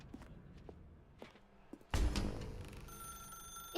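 In the video game The Stanley Parable, soft footsteps lead into a room, then a telephone's electronic ring sounds faintly and steadily near the end.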